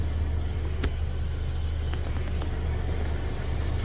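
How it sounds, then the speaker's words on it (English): Inside a Buick Encore cruising at highway speed, a loud, constant low road and engine rumble fills the cabin with steady wind roar and a few faint clicks, no talking. "we're actually at highway speed, and I've been driving this car for a little bit, and it's loud in here."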